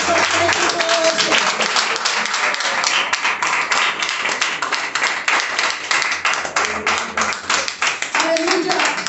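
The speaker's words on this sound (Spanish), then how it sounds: "Dele fuertes aplausos a Cristo todo esto." Church congregation applauding loudly for Christ during a Spanish-language service, dense sustained clapping throughout with voices and some musical tones underneath.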